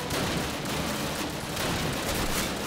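Gunfire in the Call of Duty video game: dense, continuous volleys of rifle and machine-gun shots crackle together in a loud, sustained barrage.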